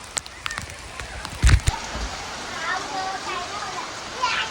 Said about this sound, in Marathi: बघा केवढा जोराचा पाऊस पडायला लागलाय मस्त